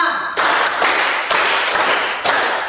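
A group follows a numbered clapping drill in an Indonesian session, producing several distinct bursts of massed hand claps, each starting sharply and tailing off, about four in sequence, loud and close.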